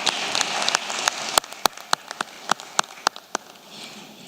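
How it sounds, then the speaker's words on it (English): Scattered clapping from an audience at a football confederation general assembly, sharp isolated claps at an uneven pace over a faint hiss, moderately close with no talk. "Can we please clap hands for our brother Gianni Infantino?"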